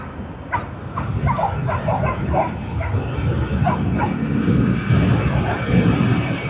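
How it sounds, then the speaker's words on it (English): An airliner on the Sydney to Darwin service begins its takeoff roll at Sydney Airport, a steady loud engine roar building, with a dog barking repeatedly nearby over it. "we have the Sydney to Darwin service just begun its takeoff roll"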